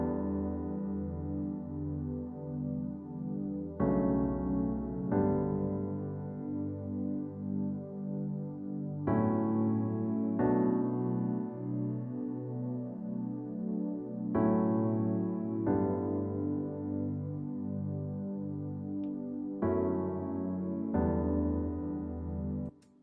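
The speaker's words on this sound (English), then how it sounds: "It's a grand piano mixed with a pad that comes with Logic" A melancholic grand piano melody layered with a soft Logic synth pad, sustained chords shifting every few seconds in a smooth, even wash with no voices.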